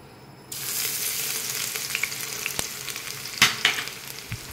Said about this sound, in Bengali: তেলটা আমার গরম হয়ে গেছে, আমি প্রথমেই দিয়ে দেব রসুন কুচিটা